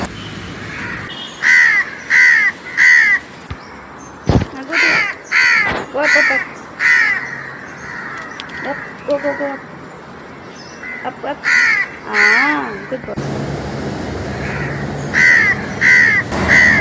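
House crows at a residence in Mumbai give loud, coarse caws in a series of short, harsh bursts, spaced irregularly with brief quiet gaps between calls.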